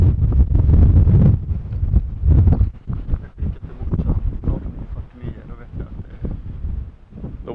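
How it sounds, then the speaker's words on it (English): Strong wind blowing on a mountain during a hike on Kebnekaise in Sweden, heavy low buffeting gusts hitting the microphone in rushing waves, loud and close throughout. "the wind is blowing as much as you can hear."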